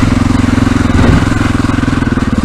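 A motorcycle engine thumps close and loud in a rapid, regular pulsing beat while the rider feathers the clutch on an off-road section, with a brief surge in the middle before settling back.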